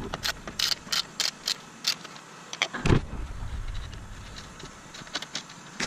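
Ten millimeter fan shroud bolts being removed on a 2006-2011 Honda Civic Si, with a run of quick metallic ratchet clicks in bursts, one heavier clunk midway, then more light clicking, close up and without talk.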